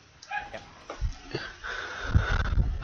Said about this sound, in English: Do apologize for the dog outside my window right now.